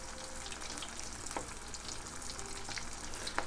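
Sicilian arancini rice balls frying in oil, a faint, steady crackling sizzle with scattered small pops, continuous and without voices.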